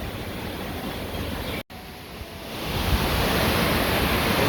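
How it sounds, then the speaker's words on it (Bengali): Storm wind beginning to blow, a loud, steady broadband rush like surf that swells slightly stronger toward the end, with a brief dropout early on and no talking. "ঝড় শুরু হয়ে গেছে গা।"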